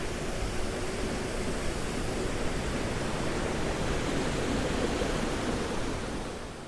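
A woodland waterfall in the Lake District pours in a constant, dense roar of falling water, loud and steady throughout with no voices over it.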